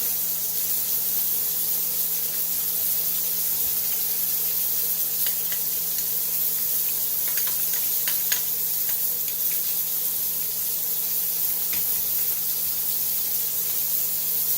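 Steak sizzles steadily in a frying pan, a loud, constant hiss of spitting fat with scattered sharp crackles and pops running throughout, no voices over it.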